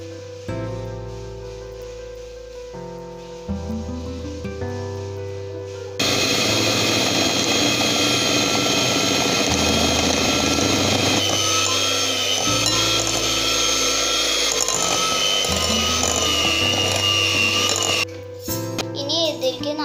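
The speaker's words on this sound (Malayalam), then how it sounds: "എന്നിട്ട് നന്നായിട്ട് മിക്സ് ചെയ്യാം." An electric hand mixer beats sugar into vanilla sponge cake batter, a loud steady whir with a continuous tonal hum that holds for most of the stretch, with quieter motor humming at the start and end.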